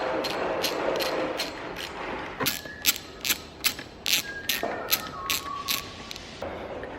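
Hand ratchet tightening bolts on a Chinese-made M2R pit bike during assembly: after a quiet start, a series of sharp, close clicking bursts in an irregular rhythm, each a quick ratcheting stroke, with faint metallic scraping between.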